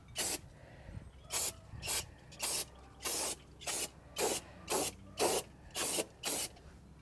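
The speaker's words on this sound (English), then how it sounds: "let's spray this guy down and make sure she's cleaned off." Aerosol brake cleaner sprays on the front brakes of a 2014 Nissan Frontier in a steady series of about a dozen short hissing bursts, evenly paced and close up, with faint background hum.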